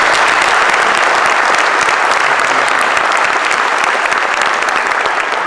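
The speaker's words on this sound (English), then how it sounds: "A large round of applause for Athletic Hall of Fame Information Director, Bob Malta" Loud, dense applause fills a high school athletic hall of fame ceremony in Rockville, a sustained crowd ovation for the information director that holds steady throughout without letting up.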